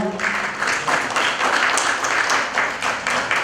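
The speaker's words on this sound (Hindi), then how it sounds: "एक बार जोरदार तालियां।" Loud, continuous applause from an audience at a commemorative ceremony and award event, with many hands clapping in a dense, even wash throughout.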